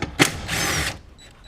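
A power driver zips a 10mm bolt out of a window regulator in a Suburban or Tahoe door, a short sharp burst followed by a steady half-second whir that cuts off abruptly.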